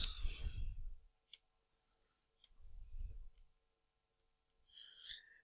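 A few sharp computer mouse clicks, sparse and fairly quiet, separated by short muffled low rumbles and a brief high rustle near the end.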